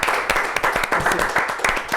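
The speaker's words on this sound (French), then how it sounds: "on peut applaudir bien fort" Audience applause for a hypnotist's volunteer at a club show, a dense, steady run of many hands clapping with sharper individual claps cutting through, loud and close throughout.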